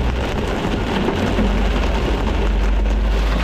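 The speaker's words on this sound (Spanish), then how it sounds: "Lo que está cayendo es granizo." Dense, steady drumming of hail pounding a car close by, with a low rumble underneath and no voices.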